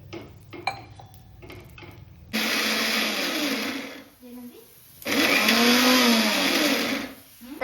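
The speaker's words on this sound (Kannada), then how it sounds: "ಜಸ್ಟ್ ಒಂಚೂರು ನೀರು ಹಾಕಿ ಮಿಕ್ಸಿಗೆ ಹಾಕಿ ಪೇಸ್ಟ್ ಮಾಡಬೇಕಷ್ಟೇ." Kitchen mixer grinder blends chutney paste from roasted gram, cumin, salt, a little sugar and water, running in two loud whirring bursts separated by a short pause, after some light clatter of utensils.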